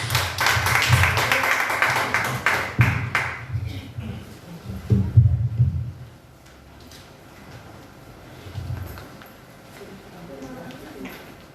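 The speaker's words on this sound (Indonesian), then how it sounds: "Beri tepuk tangan buat Tuhan Yesus." A church congregation claps hands at a Christmas service, with loud, busy clapping over the first few seconds that fades out, followed by quieter room noise and faint murmuring.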